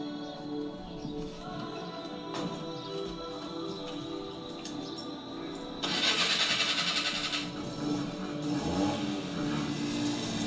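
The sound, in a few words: Maruti 800 car engine starting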